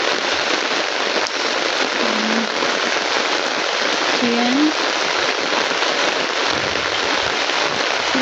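Heavy rain pours down during flooding in a steady, dense roar throughout, with a voice speaking briefly over it.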